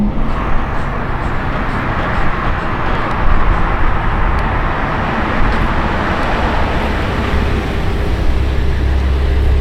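Lamborghini V12, the pace car meant for the cancelled 60 Giro, rumbling steadily at close range with a dense, continuous roar that swells slightly midway before settling back.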